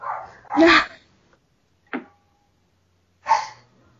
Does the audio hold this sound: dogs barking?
yes